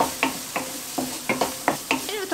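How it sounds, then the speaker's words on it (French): Rice and peas cooking together in a pan, a spoon scraping and stirring in regular strokes, about eight in quick succession, with a soft sizzle underneath. "je vais ajouter mes petits pois avec, comme ça ils vont cuire en même temps"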